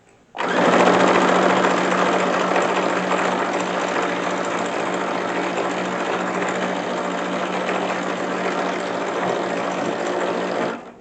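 A modern sewing machine runs a lock stitch at a fast, even whir that stays loud and steady for about ten seconds before it stops, with no voices over it.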